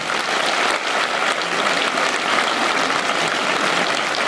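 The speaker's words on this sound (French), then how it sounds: "Bienvenue avec vos applaudissements au méga CGR de Saint-Saturnin." Sustained audience applause fills a cinema auditorium at the Méga CGR in Saint-Saturnin at the opening of a Sarthe talent-show evening, dense, steady and loud throughout with no pauses.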